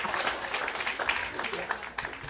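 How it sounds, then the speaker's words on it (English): A church congregation claps together, with scattered hand claps and irregular sharp bursts over a steady murmur of voices. "Now y'all give in to big old hand clap,"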